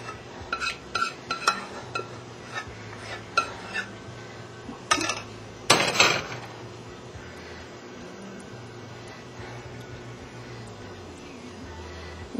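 A spoon scrapes the last of the lasagna sauce out of a cooking pot, producing a run of light metallic scrapes and clinks in the first half, with a louder clatter near six seconds before the clip settles into quiet room tone.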